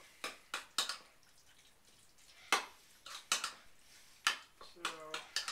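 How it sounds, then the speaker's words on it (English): A metal spoon stirs Greek style yogurt in a bowl, producing a string of sharp, close clinks and taps against the bowl at an uneven pace, with short quiet gaps between strokes. "kind of give that a little bit of a stir"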